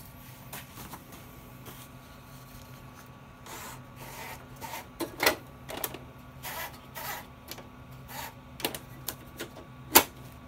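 Paper is fed into a Brother SX-4000 electronic typewriter: scattered clicks, soft rustling and motorized whirs of the paper feed, ending in one sharp loud click, all close and otherwise quiet.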